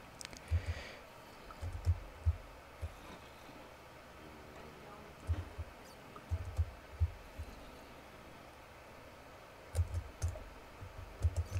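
Computer keyboard clicks while playing a Bedwars game, scattered bursts of quick taps recurring through the stretch, faint and close under a quiet background with some talk.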